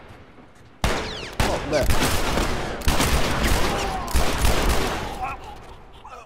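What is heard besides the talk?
gunfire in video game The Last of Us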